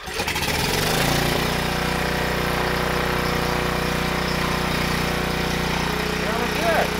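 A small portable generator engine runs steadily close by, a loud continuous droning hum that barely changes throughout.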